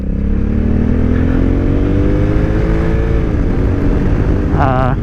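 A 2021 Honda Africa Twin adventure motorcycle pulls hard under acceleration, its engine note rising steadily in pitch with a close, continuous roar; a brief higher whine breaks through near the end.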